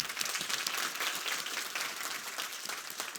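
An audience at a hospitality conference talk claps steadily, a dense patter of many hands continuing for a few seconds, moderately loud and fairly close, with no talking.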